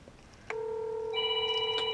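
A telephone rings on an outgoing call: after a brief quiet start, a steady electronic ringing tone sounds continuously and clearly, with a higher tone layered in partway through and no talking.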